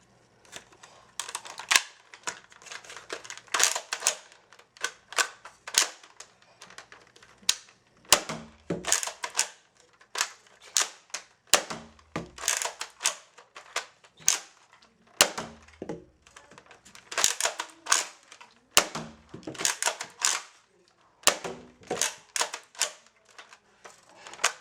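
Nerf Rival Roundhouse blaster shooting standard yellow foam rounds: a long run of sharp, close mechanical clacks and pops arriving in quick bursts with short pauses between, each shot a crisp snap followed by a rattling cycle, with no talking.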